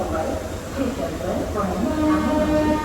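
A train rumbles steadily past with drawn-out horn-like tones, and voices can be heard underneath.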